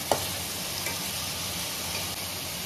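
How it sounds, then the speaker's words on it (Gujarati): Chopped onions sizzle steadily in hot oil in a pan for Gujarati pav ragdo, a dense, even frying hiss with a brief clink near the start. "ડુંગળી આપણે પહેલા થોડી વાર ચડવા દેશું."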